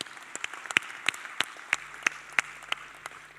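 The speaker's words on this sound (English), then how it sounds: "That's why I'm asking you to give him a louder round of applause." A few distinct claps ring out at a pension summit, sparse and rhythmic like a small group or single person clapping, with a low hum starting partway through.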